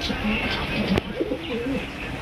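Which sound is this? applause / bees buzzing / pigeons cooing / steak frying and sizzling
pigeons cooing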